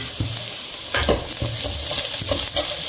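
Chilli powder is stir-fried into chicken egg fried rice in a hot pan, with a steady crackling sizzle and repeated scraping knocks of a spatula turning the rice at a brisk, uneven rhythm.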